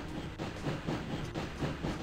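Train rolling along the track in the PS1 game Sheep, Dog 'n' Wolf, a steady low rumble with soft rhythmic clacks and a hiss above, continuous and moderately loud with no talk.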